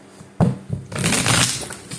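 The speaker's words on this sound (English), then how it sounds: "As I'm shuffling the cards" Tarot cards being shuffled close up: a sharp riffle snap, a brief pause, then a dense papery rustle of cards sliding together for about a second, with no talking.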